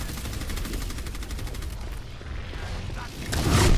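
Rapid automatic gunfire from Torbjörn's turret in an Overwatch 6v6 match, a steady mechanical rattle of shots that runs throughout, swelling louder near the end amid other game noise.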